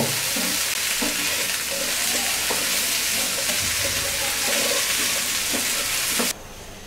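Okra and carrots frying in a pan give off a loud, continuous sizzle as they are stirred, with occasional spatula knocks against the pan, before the hiss drops abruptly near the end.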